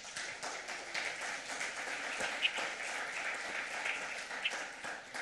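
A church congregation applauds steadily for about five seconds, a dense even wash of many hands clapping together with no speech over it.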